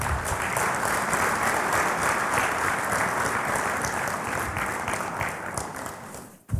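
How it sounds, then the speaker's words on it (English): Congress delegates at a football confederation meeting in a hall give a sustained round of applause, a dense even clapping that holds steady before fading out abruptly. "I now ask you to show your acclamation by a round of applause"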